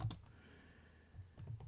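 A few quiet keystrokes on a computer keyboard during C++ coding practice, a tap at the start and a couple more near the end, with near silence between.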